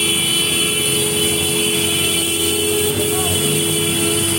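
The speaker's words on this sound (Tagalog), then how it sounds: "Ingay ng mga jeep oh." Jeepney traffic on a busy street, a constant loud engine rumble and hum of passing vehicles close by, with a person talking over it.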